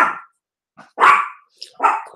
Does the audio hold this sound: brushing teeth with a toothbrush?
no